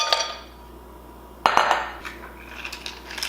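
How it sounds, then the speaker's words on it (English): Ice cubes drop into a container of raspberry yogurt with a bright clink and clatter, followed by smaller scattered knocks and rattles, close and alone with no talk. "And we're going to add our ice cubes."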